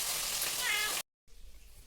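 A cat meows once at close range over a faint sizzling background, then a brief silence, then quiet room noise.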